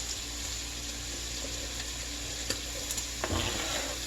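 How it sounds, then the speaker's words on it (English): Chopped vegetables dropping into a soup pot where sausage is cooking, giving a steady close sizzle and bubbling hiss with a few soft knocks near the end. "I'm just going to throw these right into the pot as I chop them."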